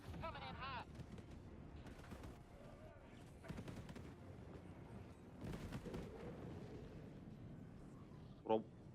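Gunfire and blasts in the video game Helldivers 2 rumble continuously with talk over them, ending in one sharp, loud explosion-like burst near the end.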